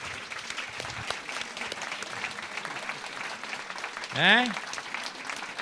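A film-festival audience at a meeting with director Paolo Virzì gives soft, crackling applause, faint and distant, with a voice briefly speaking over it near the end.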